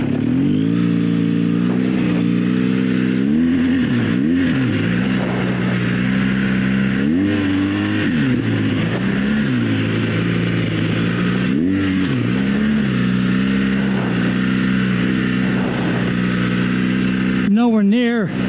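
A dual sport motorcycle on adventure tires rides through deep sand, its loud mid-pitched engine rising and falling steadily throughout, close and continuous, with a rider speaking over it.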